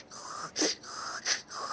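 A voice imitates a snoring dinosaur with rhythmic breathy snorts and wheezes, two strong pulses between softer hissing breaths, close and fairly loud.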